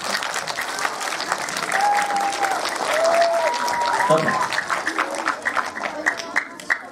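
Sustained applause from a crowd, steady clapping throughout with a voice speaking briefly over it.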